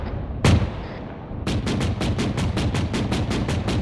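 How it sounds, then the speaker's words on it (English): A vehicle cannon in the military game Arma 3 fires one loud blast. After a short pause it pounds out a rapid, evenly spaced burst of heavy shots that continues to the end. "This cannon is really loud."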